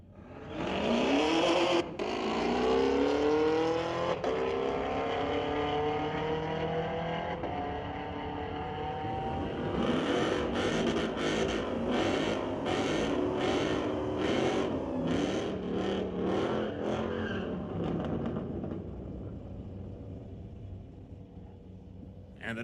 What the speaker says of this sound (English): Bring up Chase Cranmore with the Camaro